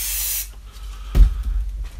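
Adhesive sprayed from a can over model railway scenery, a broad steady hiss at the start that cuts off after about half a second, then quiet handling sounds and a soft thump.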